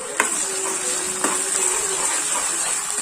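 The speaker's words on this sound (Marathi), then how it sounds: "टोमॅटोला छान तेल सुटेपर्यंत परतून घेऊयात" Onion, ginger-garlic paste and tomato sautéing in hot oil, a steady close hiss and sizzle with a couple of brief spatula knocks against the pan.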